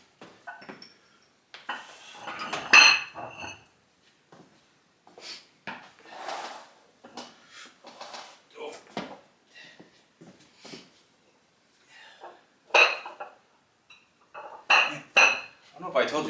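Metal workout weights being moved in a home gym clank and clink in irregular bursts, some sharp and loud, others soft scrapes and knocks, with brief pauses between the handlings.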